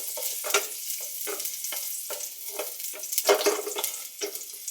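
Onion filling sautés in a little oil, giving a steady soft sizzle with a series of stirring scrapes from a utensil in the pan.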